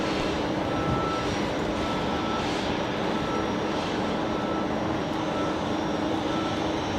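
USAF C-17 engines running during pushback at Brisbane Airport, a continuous loud broadband roar with a steady whine, constant in level throughout.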